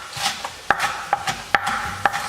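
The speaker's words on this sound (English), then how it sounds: "next thing we're going to do is chop up the spinach if you're using fresh spinach" A knife chops fresh spinach on a cutting board in a small kitchen, with sharp, crisp knocks at a steady pace, close and alone.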